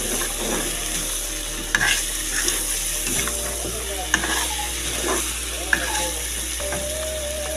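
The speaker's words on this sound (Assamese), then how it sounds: "গেছটো অকণমান কমাই লৈছোঁ আৰু ভাজি আছোঁ" Pigeon meat fries in a pan over a low gas flame, a steady close sizzle broken by occasional scraping stirs and clicks, with faint talk in the background.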